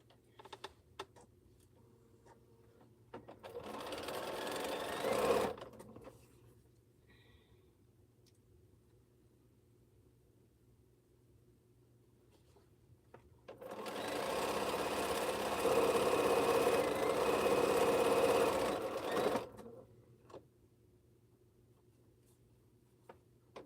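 A sewing machine quilting a T-shirt quilt runs in two bursts, a short stitching run and then a longer steady one, each a close, even mechanical whir with quiet room hum between.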